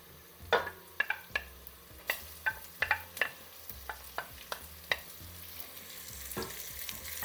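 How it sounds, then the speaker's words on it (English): Chicken mince and onions fry in a pan with soft sizzling under repeated sharp clicks and scrapes of a spoon stirring, close and fairly quiet, no talking. "And now you keep frying the mince in the onions"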